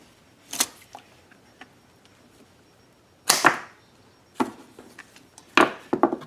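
A short length of fuel hose for a Ryobi 1800/2300 generator's extended run fuel kit is cut, giving several sharp, close snips and clicks separated by pauses, with faint handling noise in between.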